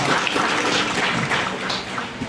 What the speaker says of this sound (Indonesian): Tepuk tangan untuk honor.